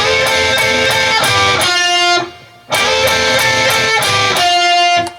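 An electric guitar plays a solo phrase in two busy runs of ringing notes, separated by a short near-silent gap, loud and close with no talking.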